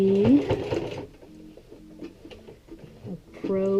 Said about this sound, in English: So let's stitch it in.